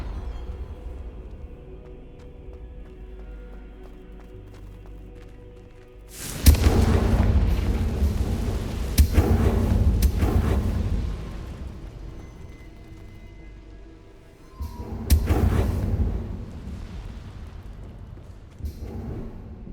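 Confringo fire spell explosions in Hogwarts Legacy: a loud booming burst that rolls on with crackling rumbles for several seconds, then a second heavy blast later, between stretches of quiet low ambience.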